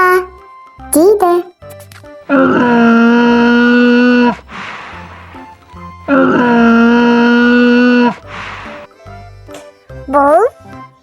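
A donkey brays twice, each call a long, loud, strained tonal note followed by a harsh breathy rasp, with short pauses and brief clicks between the calls.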